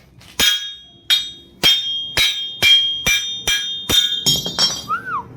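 A hammer pounds a Ford Figo wheel bearing out of its housing with about eight loud, evenly spaced metallic blows that ring briefly, then a scrape and a few lighter knocks close by.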